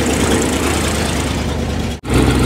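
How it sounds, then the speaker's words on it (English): A 1975 International 1800 truck engine idles after carburetor repair, a loud, steady, lumpy rumble up close that cuts out abruptly for a split second before resuming. "Alright, we finally got it to idle."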